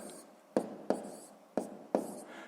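Someone writes numbers by hand while working a math problem, making faint pen-on-paper scratches with four distinct taps close by.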